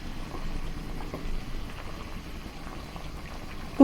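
Macaroni boiling in a pot of water, a low steady bubbling rumble throughout, moderately quiet and close, with no voices.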